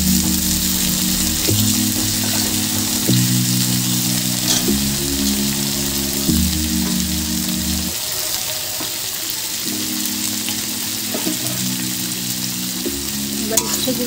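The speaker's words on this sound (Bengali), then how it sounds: "এবার উচ্ছেগুলোকেও আমি ভালো করে ভেজে নেব।" Bitter gourd pieces coated in salt and turmeric sizzle steadily in hot oil with browned onion. The close, continuous frying plays under soft background music, with occasional stirring.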